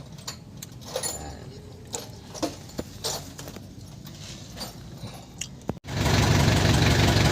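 An Isuzu 4BA1 diesel engine, in good condition, being fitted and started: light irregular clicking and tapping for several seconds, then the engine catches and settles into a loud, steady, close running roar.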